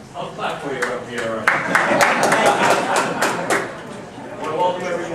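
A few people clap in a committee hearing room, a quick burst of scattered hand claps building and fading over several seconds with a murmur of voices underneath.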